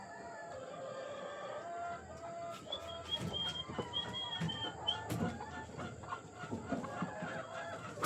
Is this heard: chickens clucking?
yes